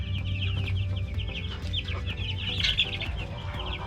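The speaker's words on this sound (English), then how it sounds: "We're gonna check on these meat chickens real quick." Several meat chickens cluck and squawk close by, busy overlapping calls with rustling and movement underneath.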